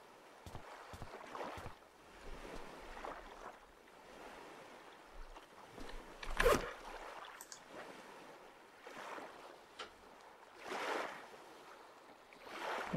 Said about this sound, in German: Boah, diese Wellen,